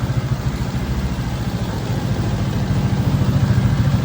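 Sniper 155 motorcycle engine bored out to 210cc, idling steadily with a fast, even low pulse and close, continuous running throughout with no talk.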